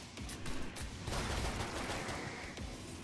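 Dense, continuous gunfire from the co-op zombie shooter Killing Floor 2, a loud steady barrage of overlapping shots throughout with no clear gaps.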